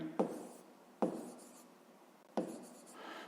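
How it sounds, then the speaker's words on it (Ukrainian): Pen strokes on paper while writing out a fifth-grade math exercise, three distinct scratchy bursts of handwriting, close and quiet, with near silence between them. "І записуємо, що А, одна сторона, у нас дорівнює 6 дециметрів."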